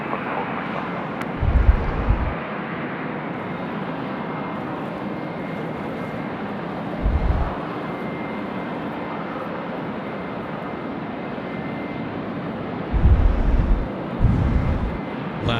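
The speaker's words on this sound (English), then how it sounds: "Qantas 425, please take off" Qantas airliner rolling for takeoff on runway 25 at Sydney Airport on a windy day, a steady broad jet roar mixed with wind buffeting, with short louder low gusts at intervals.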